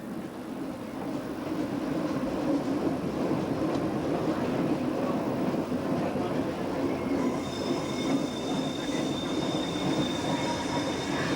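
A train rumbles steadily along the rails, with high metallic squealing from the wheels rising in the second half.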